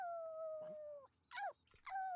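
Dog in The Sims 4 video game giving a few short whimpers and whines, with a longer drawn-out whine at the start and brief yelping cries after, close and fairly clear.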